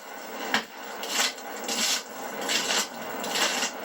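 A stick rakes hard against a tree trunk, imitating a bull elk scraping bark with its antlers during the rut: about six rough, rasping scrapes in an uneven rhythm, close and loud, with no voices.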